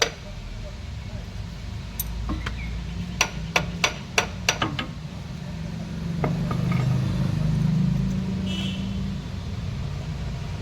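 Sharp metallic hammer taps ring out one after another, about eight close blows, as a bolt is knocked free during timing-kit work on a 1.5 diesel Volkswagen Polo. A low engine-like rumble swells afterward.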